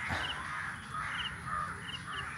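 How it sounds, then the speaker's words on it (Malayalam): Crows caw repeatedly near a backyard pond, several short harsh calls in loose succession at moderate distance over steady ambient hiss. "ഒരുപാട് കാക്കകളെ കാണാം"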